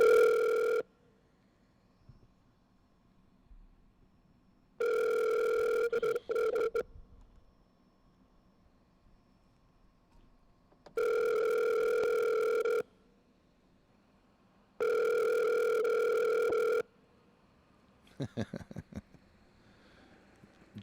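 Telephone ringback tones repeat during an outgoing call, loud two-second electronic buzzes separated by long silent gaps, in a steady cadence, ending with a brief garbled burst.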